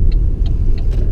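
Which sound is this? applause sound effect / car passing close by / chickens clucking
car passing close by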